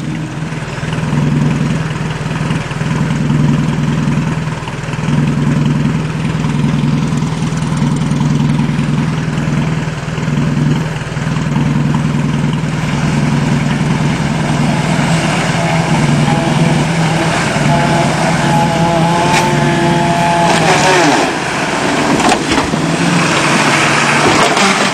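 Off-road vehicle with tires aired down for traction, its engine idling with a steady low rumble that swells into louder revving near the end, close and continuous with no talk.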